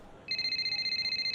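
A phone rings in the F1 25 racing game, a bright steady electronic trill with rapid pulsing that begins abruptly after a short quiet moment and continues clearly with no talk over it.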